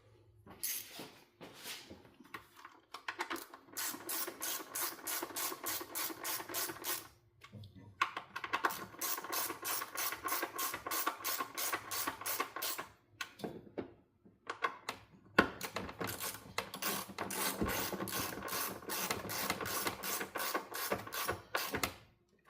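Oil filter housing bolts on a BMW M2 G87 are tightened with a ratchet, bursts of rapid, even clicking separated by short pauses, close and fairly loud, no talk.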